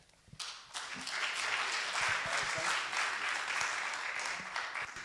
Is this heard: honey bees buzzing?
no